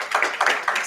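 Applause for a panelist from a live audience at a panel discussion on medical algorithms, heard as short bursts of clapping that swell three times in under a second, with no one talking.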